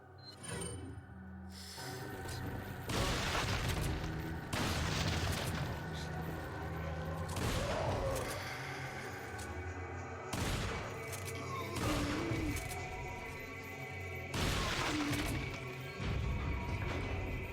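Repeated explosive bursts from incendiary grenades in Resident Evil 4 break out every few seconds. The blasts are loud and crackling and sit over steady game noise and music.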